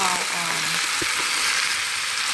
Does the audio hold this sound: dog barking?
no